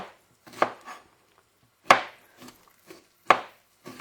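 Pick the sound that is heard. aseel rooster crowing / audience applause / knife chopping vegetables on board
knife chopping vegetables on board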